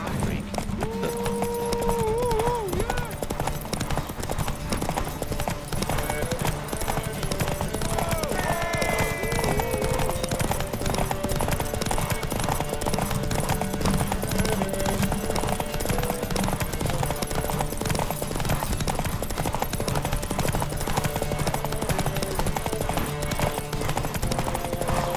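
Horses gallop in a race in The Witcher 3, with steady clip-clop hoofbeats running throughout, brief whinnies near the start and voices calling over the busy, loud mix.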